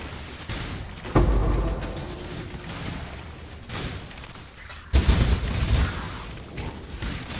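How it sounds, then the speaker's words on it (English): Icy explosions from a spell in the Path of Exile action video game, two loud bursts about four seconds apart over a busy layer of game effects, with no talk. "And now cause icy explosions."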